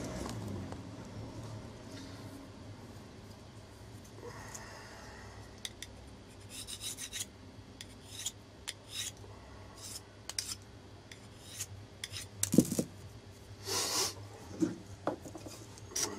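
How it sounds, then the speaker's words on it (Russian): A Ganzo 704 folding knife edge is stroked on a stropping board, soft rubbing and rasping passes that grow into sharper, irregular scrapes, close and fairly quiet without speech. "Берем досточку для правки ножа и поправляем кромочку, убирая остатки заусенца."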